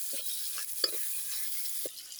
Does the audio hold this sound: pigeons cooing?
no